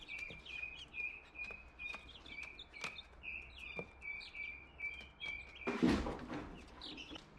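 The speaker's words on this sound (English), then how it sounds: "This is a guinea hen." Guinea hen in a backyard chicken-keeping setting, giving repeated short, high calls in a steady series over a noisy background, with a louder burst of handling noise near the end.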